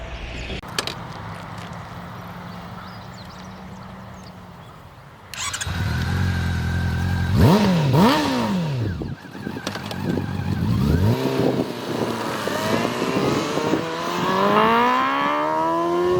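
A Honda CB500 motorcycle engine starts and revs loudly, pitch sweeping up and down in sharp bursts, then climbing through repeated throttle blips, close by.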